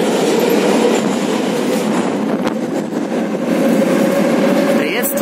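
A metro train rumbles steadily through Voykovskaya station in Moscow, with wheels and motors humming loudly and a faint squeal near the end.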